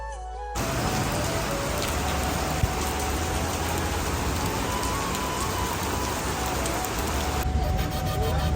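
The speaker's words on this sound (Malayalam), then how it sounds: "ഒരു അടിപൊളി മഴയായിരുന്നു കേട്ടോ" Heavy rain pours down in a steady, dense hiss that starts abruptly and holds at an even, fairly loud level, with no voices.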